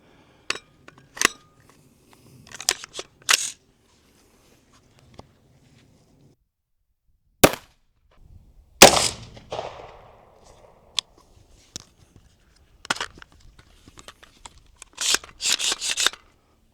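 A 5.56 rifle fires into sacks of farm grain during an outdoor ballistic test: a handful of sharp, loud cracks spaced seconds apart, with bursts of smaller rattling clicks and handling noise between them.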